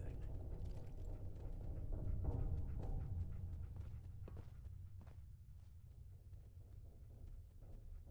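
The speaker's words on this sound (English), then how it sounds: "I hear big fat footsteps on the other side" Heavy footsteps thud on the far side of a door in a video game, a steady run of muffled, weighty steps set against low ambient rumble.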